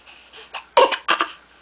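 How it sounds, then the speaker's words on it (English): A young child gives two short, breathy forced coughs close by, after a few soft vocal sounds. "I guess that's the fake cough."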